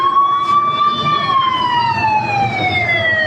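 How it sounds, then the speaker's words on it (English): Police motorcycle siren escorting a food delivery in Cuba, a loud close wailing tone that holds and then slowly glides downward, with faint traffic beneath. "Obviously, what you see here is a police motorcycle. This is the escort for the food."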